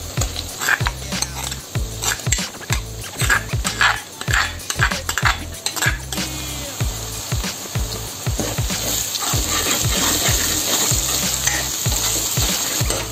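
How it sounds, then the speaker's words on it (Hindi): Garlic, ginger and onion fry in a pan with a steady sizzle, while a utensil stirs and scrapes against the metal in irregular clinks and knocks; the sizzle swells louder toward the end. "लहसुन और प्याज दोनों अब भून के रेडी हो चुके हैं।"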